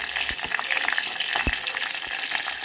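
Crushed garlic, mustard seeds and curry leaves fry in hot oil, a dense close sizzle with scattered crackles, pops and occasional stirring clicks.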